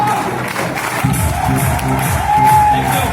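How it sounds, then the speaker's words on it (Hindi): Live audience at a Hindi stage talk show claps and cheers loudly, with whoops and shouts rising over steady applause, the crowd swelling toward the end. "ताली बजा रहे हैं।"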